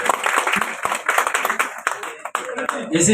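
An audience claps by hand at a jewellery shop's inauguration ceremony, with scattered sharp claps mixed in under a person talking at the same time.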